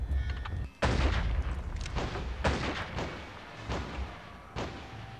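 Gunfire and dynamite explosions in the Western video game Gun: dense, loud bursts of shots and heavy thuds that repeat in irregular volleys, with brief lulls between blasts and no talk.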